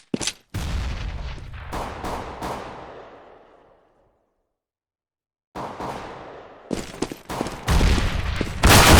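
Gunfire bursts and explosions from a CS:GO match as a grenade is thrown, with loud repeated shots, a blast that fades into a stretch of silence, then more heavy firing and booms.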